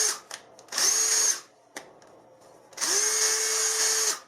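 A power tool cuts threads into a hard metal camera mount, whining in two loud, close bursts with a shorter spin-up between them.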